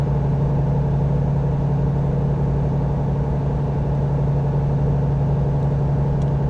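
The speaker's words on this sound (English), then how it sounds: "I'm starting to get used to the sound of the engine being more, having a deep throat sound to it" A Volvo truck engine drones in American Truck Simulator, a steady deep throaty hum that holds constant and loud throughout without any voices.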